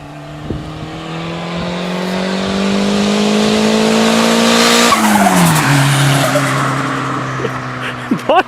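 A turbocharged Honda Civic revs hard, its engine pitch climbing steadily for several seconds, then dropping off with a sharp fluttering release, followed by a few short chirping bursts near the end.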